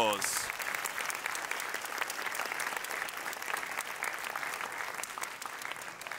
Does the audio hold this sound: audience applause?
yes